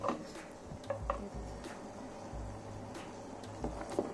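Sugar syrup for nut-stuffed gulab jamun being stirred in a pan on a stove, a spoon scraping and clinking against the metal in soft, irregular strokes, close by and fairly quiet.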